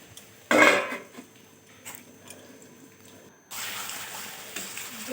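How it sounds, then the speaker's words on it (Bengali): A lid clatters onto a metal cooking pot of aloo dum in a home kitchen, one sharp clanking knock followed by softer rattles and a steady background hiss. "একটু ঢাকা দিয়ে দেবো এটা"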